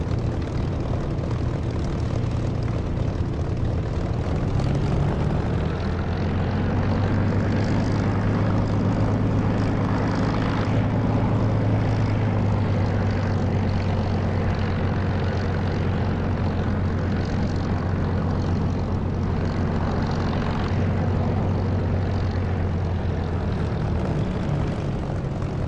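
An aircraft engine in the DCS flight simulator game roars steadily through takeoff, a loud sustained drone whose low tone rises in pitch and holds as power builds, with no talk.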